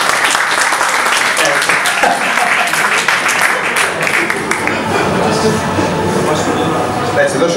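Dense, loud clapping from a crowd at a gaming party, strongest at first and then thinning, with voices talking over it throughout.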